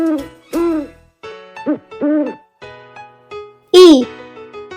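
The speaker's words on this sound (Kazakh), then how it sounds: "Үкі" An owl hoots in a run of loud, close, wavering calls, about seven hoots with short pauses between them, the last one strongest.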